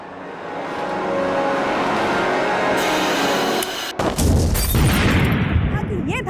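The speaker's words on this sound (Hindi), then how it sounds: "ये धमाका किसी गैस सिलेंडर के फटने से हुआ है" A gas cylinder explosion in a TV crime drama, set near a street snack stall: a sudden loud broadband blast cuts through steady background noise and talk, followed by a rumbling, crackling aftermath.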